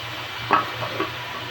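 A spoon scrapes through a vegetable mixture of ginger, chili and garlic paste in a pan over low heat, giving two soft clinks over a faint steady sizzle.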